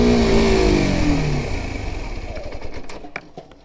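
A Kawasaki Ninja motorcycle engine, left in gear with the clutch out, bogs down quickly from a steady hum, fading into uneven chugs and a few rattling clunks as it stalls.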